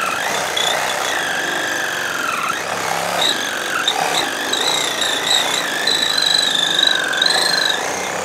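Powered saw cutting through a banana palm trunk, a continuous high buzzing whine that rises and shifts in pitch as the blade bites, close and loud with no talk.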